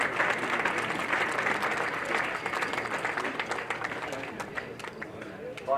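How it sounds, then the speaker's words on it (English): A crowd applauds the match officials at the 2014 State Cup football final, Broadmeadow Magic versus South Cardiff, with steady dense clapping through the whole stretch and a little voice chatter mixed in, tapering slightly toward the end. "I now ask that you join me in a round of applause for our match officials for their services tonight."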